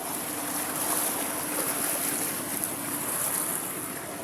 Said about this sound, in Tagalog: Grabe kataas na sa baha.